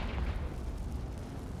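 A Confringo spell blasts in Hogwarts Legacy with a short, dull, rumbling explosion that stays loud and muffled, with no voice over it.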